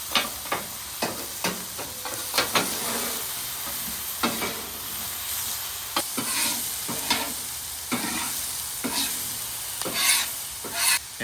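Steak and mushrooms sizzle steadily on a griddle set to low while a utensil scrapes and stirs them in repeated sharp clacks, the frying hiss constant underneath throughout.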